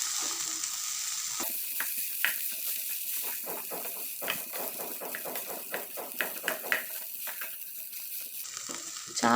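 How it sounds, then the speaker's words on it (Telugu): Cooked rice being stirred into fried mint and tomato in a pan: soft sizzling under repeated scraping and tapping of a spoon in an uneven rhythm, close and moderately quiet. "ఇందులో మనం ఉడికించుకున్న రైస్ని యాడ్ చేసేసుకోవాలి"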